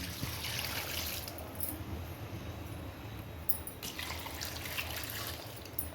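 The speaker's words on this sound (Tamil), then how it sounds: "அதுக்கு தேவையான தண்ணி நான் ஊற்றிக்கிறேன்" Water pours steadily into a metal pressure cooker, a continuous splashing trickle with a brief pause midway before the flow resumes, close and fairly quiet.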